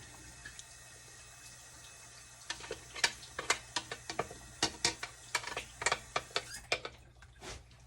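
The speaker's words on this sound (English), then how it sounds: "we're just going to mix this into the pot" Close, irregular clicks and wet knocks from blended tomatillo being stirred into meat in a pot for tamales, starting sparse and then turning into a busy run of scraping taps with a faint steady hum beneath.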